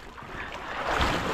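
Engine of a large wooden fishing boat running at sea, a steady low drone mixed with wind and water noise, growing slightly louder toward the end.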